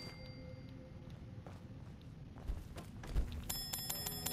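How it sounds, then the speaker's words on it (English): A bell rings in Fallout 4, a cluster of bright metallic ringing tones near the end after quiet background ambience and a few soft thumps, with no talk. "Just ringing a bell."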